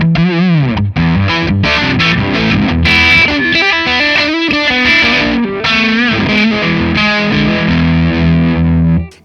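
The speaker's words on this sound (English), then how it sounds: "this is the Univibe side of the pedal" Electric guitar runs through an Effectrode tube Univibe pedal into an Orange amp, giving loud, driven chords and note runs with a pulsing, swirling modulation, close and alone before cutting off abruptly.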